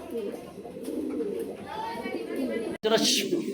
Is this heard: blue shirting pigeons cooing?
yes